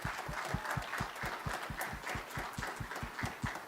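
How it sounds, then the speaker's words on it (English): An audience at a school fine arts performance claps for the string staff, with rhythmic hand claps that sound like a few nearby people beating in near unison, steady and moderately loud. "Can we get a round of applause for everybody?"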